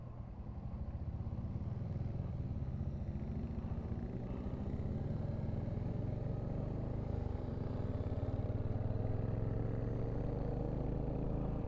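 Royal Enfield Hunter 350 single-cylinder motorcycle with its standard exhaust can, heard while riding: a steady, loud, throaty engine drone with continuous low rumble throughout, no talk.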